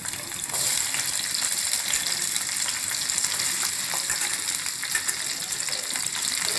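Ivy gourd (tindora) frying in a little oil in a pan, giving a steady, close, hissing sizzle throughout, without speech.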